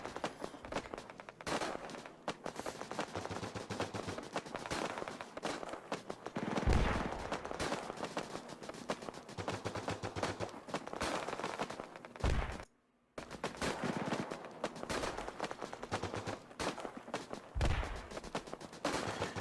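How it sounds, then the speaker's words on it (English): Distant gunfire in the Post Scriptum Bloody Seventh World War II mod, a dense continuous rattle of rifle and machine-gun fire rolling across the battlefield, broken by a brief near-silent gap midway. "all the distant gunshots, they sound great so far"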